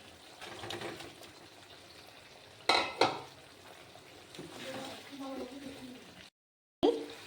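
Soaked pointed gourd pieces dropped into a pan of frying spice paste and stirred, with sharp clatters of a utensil against the pan, sizzling and scraping, and a brief dropout before a final clank.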